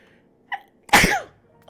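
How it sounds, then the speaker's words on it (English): A single sharp, loud human sneeze bursts out close by, preceded by a brief faint intake of breath, over near-silence and with no talk. "I had a sneeze."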